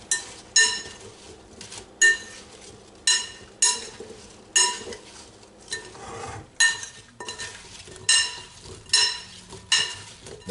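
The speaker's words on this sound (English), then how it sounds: "And this you will stir to combine." Apple pie filling with lemon juice is stirred in a bowl with a utensil, giving rhythmic scraping and clinking strokes about once a second, close and moderately loud.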